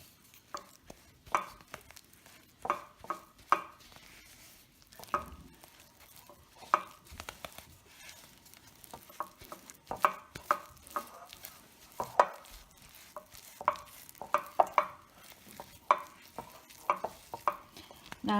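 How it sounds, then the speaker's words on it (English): Spatula scraping and stirring keto snickerdoodle cookie dough in a bowl, a steady run of close, irregular strokes with soft thumps and scrapes, no voices. "you basically want to just blend everything together. I'm just going to use a spatula."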